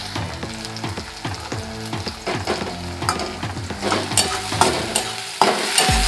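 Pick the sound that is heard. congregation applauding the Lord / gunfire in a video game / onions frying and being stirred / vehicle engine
onions frying and being stirred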